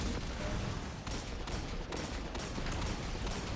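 Automated turrets in a Destiny 2 Grandmaster Nightfall keep firing in a dense, steady barrage of rapid gunshots, loud and continuous, with scattered bursts and distant booms and no voices over it.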